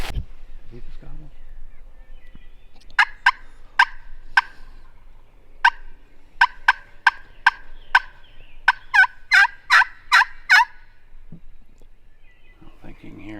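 Wild turkey gobbling from a Kentucky ridge during a late-morning hunt: a series of sharp, rattling gobbles, moderately distant, repeating in quick bursts over quiet woods, with people talking softly between calls.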